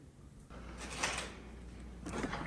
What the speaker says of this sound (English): And this door here just won't really open very well